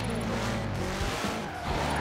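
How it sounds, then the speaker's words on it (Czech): Car in Forza Horizon 4 drifting with the handbrake held through a run of flags, a steady loud engine roar with skidding tyre noise running continuously, a brief dip near the end. "A tady se driftuje."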